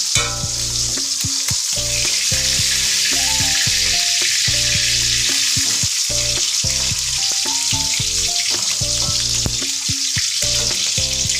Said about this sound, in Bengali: তেলের মধ্যে গোটা জিরে,